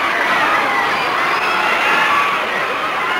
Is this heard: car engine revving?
no